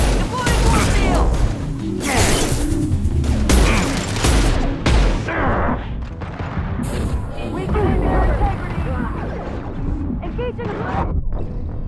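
Grenade blasts and gunfire in the video game Mass Effect 2, several heavy booms and crackling bursts in quick succession, loud and close, followed by lingering mechanical clatter with voices over the top.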